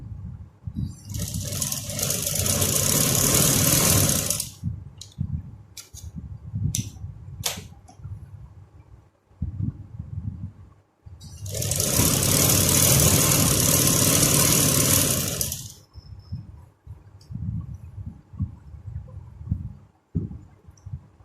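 Sewing machine stitching the seat seam of a ladies' trouser, two loud sustained whirring runs of about four seconds each, close up, with fabric handling and clicks in between.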